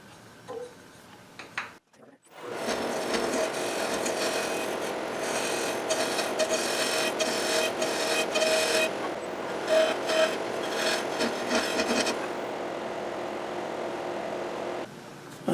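A wooden insert for a turned lathe faceplate is cut with a power tool, a sustained, fairly loud whirring cut that starts after a brief pause and runs for about ten seconds before stopping.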